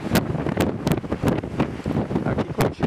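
Cold wind gusts across a microphone on an open riverside shore, with uneven rushing bursts that rise and fall, loud and close, with no voices.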